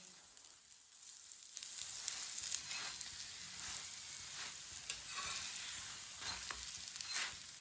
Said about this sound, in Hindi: अब इसी तरह इसे घुमाते हुए पका लेंगे।